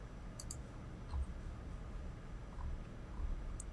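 Computer mouse clicks while drafting a floor plan in Revit software: a few sharp, faint clicks scattered across a quiet room background with low hum, no talking.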